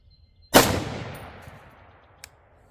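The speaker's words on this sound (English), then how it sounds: "All right, next 5-shot string here." A single loud, close .308 Winchester rifle shot cracks sharply and then rolls away in a long fading echo, with a faint click afterward.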